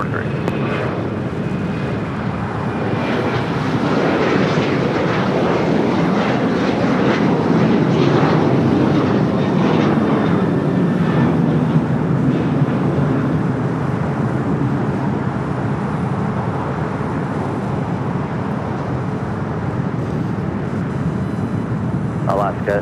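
An Alaska Boeing 737-900ER jet taking off from runway 25 right at LAX, bound for Honolulu, a loud, broad engine roar that swells and holds steadily throughout.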